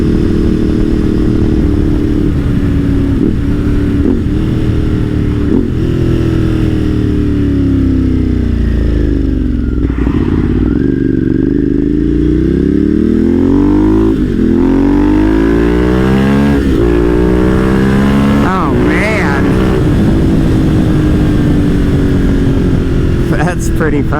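A Ducati V-twin motorcycle engine revs loud and close, its pitch rising and falling through repeated wind-ups with engine braking between them, with talk heard over the engine.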